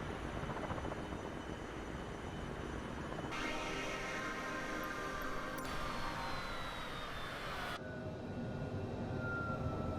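Cessna Citation business jet in Microsoft Flight Simulator, flying through full cloud cover with poor visibility: a steady, loud jet engine drone with broadband whine and shifting tonal hums, continuous and alone.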